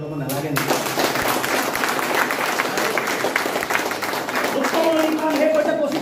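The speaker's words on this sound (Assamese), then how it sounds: "ভালে হয় তালি এটা বজাব নালাগে নেকি" Audience applause breaks out during a motivational speech at a business event, a dense, steady clapping that fills the whole stretch, with some crowd noise mixed in.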